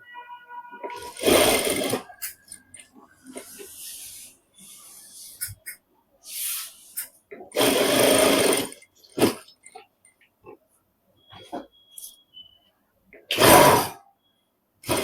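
A sewing machine stitches a cloth mask in bursts of rapid mechanical whirring, starting and stopping several times, with quiet handling noises in the pauses between runs.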